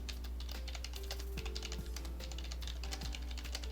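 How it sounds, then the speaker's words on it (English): Fingers type on a computer keyboard in rapid, uneven bursts of small clicks, fairly quiet over a low steady hum, with no talking. "typing a DM to Noah"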